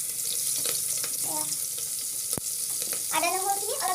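Chopped onion and green chili frying in a pan for chicken pulao, a continuous bright sizzle with a sharp clatter partway through and brief stirring or scraping noises near the end.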